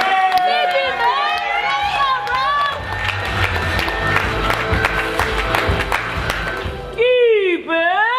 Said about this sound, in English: Start jumping and clapping